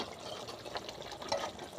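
Ground coconut paste is poured into a boiling home-style village brinjal curry, giving a soft, brief liquid splash and gurgle heard faintly up close.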